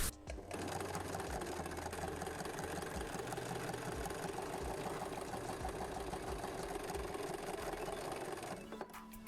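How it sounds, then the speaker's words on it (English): A domestic sewing machine top stitches along a folded fabric edge, running in a fast, even mechanical chatter for several seconds before stopping, close and alone. "I'm going to just do it by folding and top stitching right on the edge"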